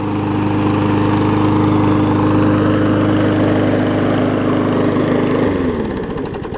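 A beat-up, neglected Bolens push mower with a Briggs Classic engine runs loud and close, holding a steady buzzing drone. Near the end the engine winds down and the pitch drops as it slows.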